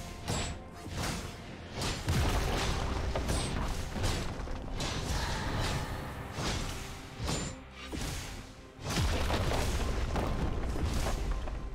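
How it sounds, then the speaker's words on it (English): Turret destroyed in League of Legends during a top-lane Tryndamere versus Dr. Mundo match: dense, loud booming and crumbling impacts with whooshes under continuous game effects and music, several heavy hits in succession. "Team's turret has been destroyed."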